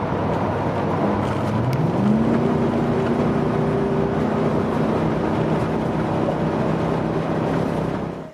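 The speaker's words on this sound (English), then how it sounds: "So that was me getting on the freeway in my truck, which had developed an intermittent misfire" A truck with an intermittent misfire accelerates onto a freeway, its engine droning loudly and rising in pitch through gears, with continuous road and wind noise around it throughout.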